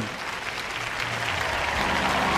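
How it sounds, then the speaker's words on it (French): An audience applauding at an evening gathering, steady dense clapping that fills the room and stays even, building a touch louder near the end. "On m'applaudit beaucoup ce soir"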